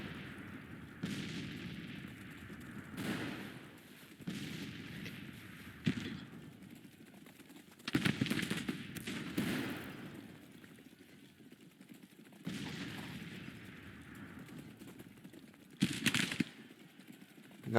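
Civil War rifle fire from the strategy game Grand Tactician, set among woods and fence lines: repeated volleys crackling at a middle distance in bursts separated by short lulls, with some scattered shots between.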